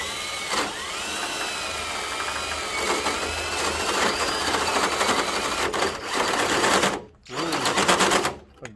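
Drill boring a pilot hole through the welded rear mount area of a Toyota Tacoma frame, a steady high whine running for several seconds, cutting out briefly near the end before resuming.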